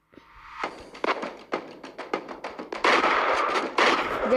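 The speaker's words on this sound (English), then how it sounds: "So I have a shotgun. But that's also the shotgun, the strongest weapon you can actually ask for." Shotgun blasts and impacts ring out in a video game, a series of sharp irregular booms building into denser, louder bursts toward the end.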